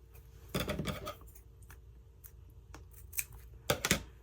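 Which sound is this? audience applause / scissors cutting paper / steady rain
scissors cutting paper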